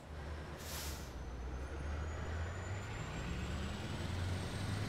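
A truck in Euro Truck Simulator 2 pulling away after a short hiss of released air, its engine rumbling low and steady while a faint rising whine climbs as it gains speed.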